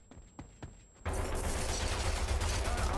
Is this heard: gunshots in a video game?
yes